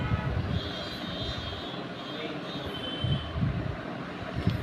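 A TVS Ntorq BS6 scooter engine runs close by after starting, giving a steady, rough rumble with constant broadband noise and small surges. No one speaks.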